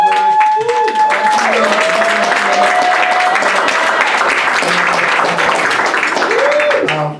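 An audience at an entrepreneurship talk applauds loudly and steadily, with voices calling out and talking over the clapping throughout.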